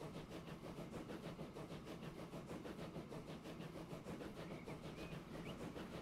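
A train rolls along rails in the Transport Fever 2 video game, a steady faint rumble with soft rhythmic clickety-clack running continuously with no talk.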